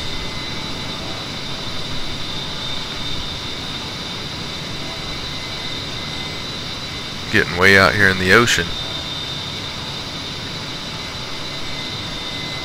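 A-10C jet engines in the DCS flight simulator give a steady whining drone with a constant high tone during engine restart practice over the ocean; someone speaks briefly partway through.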